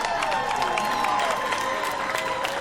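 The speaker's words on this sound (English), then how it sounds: "Crowd goes crazy. Crowd loves it." Crowd cheering and applause from a tactics video game, a dense, steady roar of voices holding at an even level for a few seconds with no speech over it.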